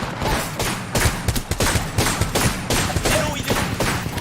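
Rapid bursts of automatic gunfire in a battle royale video game, repeated shots in dense clusters throughout, loud and close, with players talking over the shooting.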